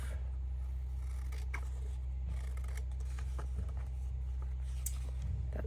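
Scissors snipping white edges off paper for a junk journal, a string of faint crisp clicks and scrapes over a steady low engine drone in the background.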